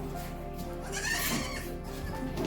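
A male goat of a local breed on a goat farm bleats close by, with drawn-out wavering cries rising in the middle of the clip over a low steady background.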